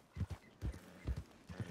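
Horse hooves clip-clop in a video game, four quick double-beat steps spaced evenly across a short stretch, soft and fairly close with no talking.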